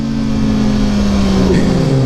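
A Kawasaki 10R 600 cc superbike engine roars loudly and close by, holding a strong, high droning note before the revs swing and drop sharply.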